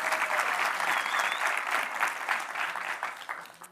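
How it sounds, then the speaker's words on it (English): A conference audience at the 2018 International Symposium on Online Journalism applauds, a dense, steady wash of clapping from many hands that carries on throughout and eases slightly toward the end. "Give an applause to this marvelous man."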